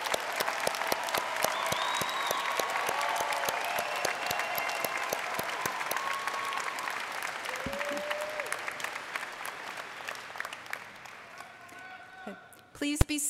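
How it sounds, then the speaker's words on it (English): A large audience at a 2016 college undergraduate graduation ceremony bursts into sustained applause, dense and steady for about ten seconds before fading, while a voice speaks over it and a brief loud sound closes the clip. "Let's have a round of applause."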